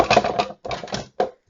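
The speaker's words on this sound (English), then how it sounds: "now I'm going to bring in my Big Shot machine" A Big Shot die-cutting machine cutting out a star gives three close, heavy mechanical bursts with brief silent gaps between them, loud and with no talking.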